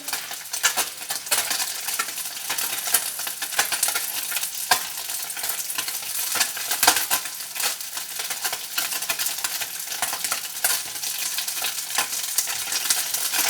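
Salmon fries in a pan over very high heat, giving a dense, continuous sizzle and crackle with scattered sharp pops, close and fairly loud, with no talking.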